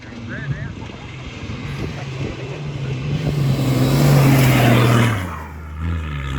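A motorbike engine revs on a red sand dune in the Simpson Desert, its whine climbing in pitch and loudness before cutting back suddenly, with wind buffeting and voices calling out nearby.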